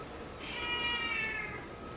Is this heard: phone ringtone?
no